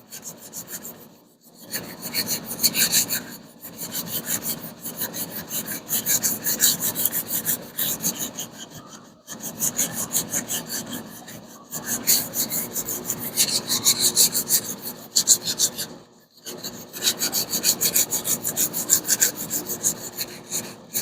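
A sanding block rubs back and forth over the body of a Hemi Plymouth Duster, steady rasping strokes repeating in close, loud runs with a few brief pauses.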